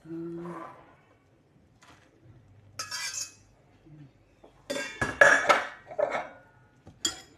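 A utensil scrapes and clinks against a cooking pot while food is stirred, in several separate bursts of metallic clatter. The clatter is close and fairly loud, with brief quiet gaps and a voice speaking now and then.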